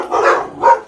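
Two sharp, close dog barks in quick succession, loud and clear with nothing else around them.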